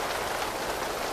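Rain pours down in the Upin Ipin cartoon, a constant close hiss of falling water with no break and no voices.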